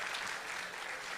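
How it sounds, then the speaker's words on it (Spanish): A church congregation applauding God during a Spanish-language sermon: a brief, steady wash of dense clapping, moderately quiet and continuous, with no talk over it. "Dale ese aplauso fuerte a su Dios"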